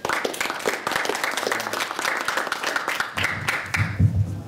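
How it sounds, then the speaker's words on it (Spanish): A crowd applauds steadily with dense clapping throughout, fading slightly near the end as a voice and some low sounds emerge. "Un aplauso cálido para él, por favor"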